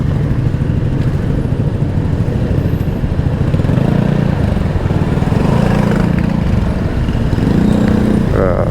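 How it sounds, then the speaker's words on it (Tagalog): Dense road traffic heading out of Tandang Sora, with cars and motorcycles idling and creeping along; a steady, loud engine rumble holds close throughout with no pauses. "Talaga matraffic guys oh."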